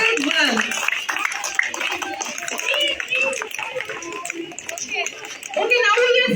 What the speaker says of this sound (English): There must be claps for all teams.